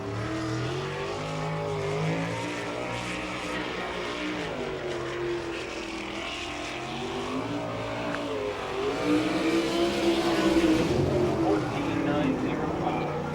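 Sprint car from the All-Star Circuit of Champions on a qualifying lap at Fremont, Ohio, its engine droning steadily and rising in pitch as it passes, loud and continuous under an announcer's voice.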